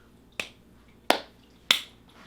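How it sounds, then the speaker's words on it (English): Three single hand claps mark an audio sync for a gaming podcast recording, each a sharp, crisp crack spaced evenly about two-thirds of a second apart in a quiet room. "clap sync on 3"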